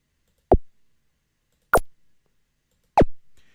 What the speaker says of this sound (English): So we have a laser shooting out.